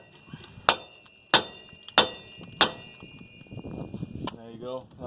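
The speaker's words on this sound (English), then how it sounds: "Then take your mini sledge and just pound on the steering knuckle again." A mini sledge hammer pounds on a steel steering knuckle, four sharp metallic clangs at a steady rhythm, then a quieter knock and a short whirring spin as the part loosens, close and loud.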